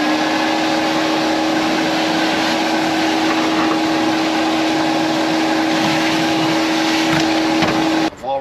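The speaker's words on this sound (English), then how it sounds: "Now we need to vacuum the base out again." Vacuum cleaner running inside a 1968 VW Bus, sucking out the seat base with a steady loud whine and hiss that stops abruptly near the end, with a voice over it.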